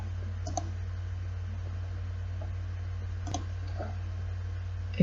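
A computer mouse gives two soft, distinct clicks a few seconds apart over a low, steady background hum at a desk.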